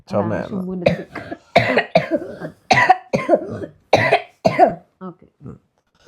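Repeated bursts of coughing, close and loud, in several short fits with brief pauses between them.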